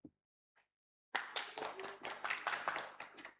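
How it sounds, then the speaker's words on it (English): Brief scattered taps, then a burst of clapping from an academic conference audience after a presentation, carrying on steadily to the end. "Please give applause to Professor Lubna Zahir, everyone."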